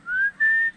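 A kaso, an Indian wind instrument, is blown like a whistle. It gives a clear, piercing tone that glides upward, breaks briefly, then holds a steady higher note. The two short blasts sound alone.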